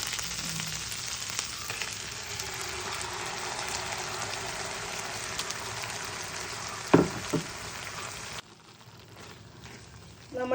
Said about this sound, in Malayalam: നമ്മളെടുത്ത് അരച്ച് വെച്ചിരിക്കുന്ന ആ അരപ്പിട്ട് കൊടുക്കാം